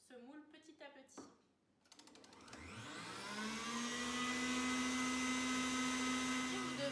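A Cooking Chef stand mixer with a balloon whisk beats meringue at maximum speed as caster sugar is added, a loud steady motor whine building after a few seconds of talk and clatter and holding through the end.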